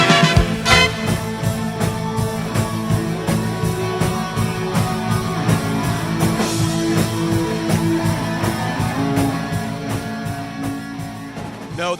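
An 80s new wave cover band from the Pacific Northwest plays a full, dense song with a steady drum beat, bass and layered keys and guitar. It runs loud and continuous throughout.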